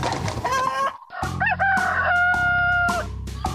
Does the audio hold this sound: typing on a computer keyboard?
no